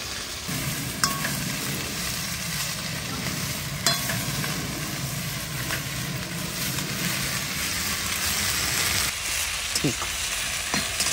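Fried rice ingredients, onions among them, sizzle and crackle steadily in a hot pan, a constant close frying hiss with occasional clicks of stirring and a brief quieter patch near the end.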